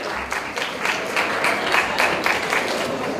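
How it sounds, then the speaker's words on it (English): Crowd at a dental awards evening applauds, a continuous wash of many hands clapping with pulsing swells, moderately loud and steady throughout. "A bigger round of applause, I think."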